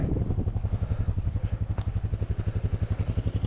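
A Kawasaki KLR motorcycle runs steadily through a ride near a lake in West Texas, its engine giving a close, continuous low pulsing drone with a fast, even rhythm and light wind noise over it.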